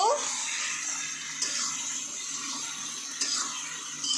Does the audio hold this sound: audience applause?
no